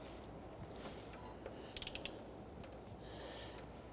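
Crankshaft of a 2.2L four-cylinder Toyota Camry turned by hand with a ratchet during a water pump job, giving faint mechanical clicks and a brief burst of ratchet ticks midway over a low steady background.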